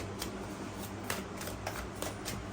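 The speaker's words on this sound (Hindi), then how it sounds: "अच्छे से पहले शफल करते हैं" Tarot cards are shuffled close up: a soft, continuous riffling and sliding patter of card stock, quiet and steady, with no voices.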